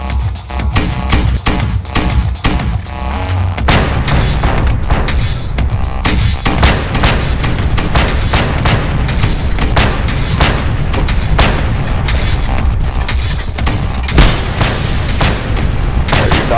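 Rocket launcher blasts and explosions from the Just Cause 2 multiplayer game on PC boom almost continuously, loud and dense, one heavy detonation after another with no break.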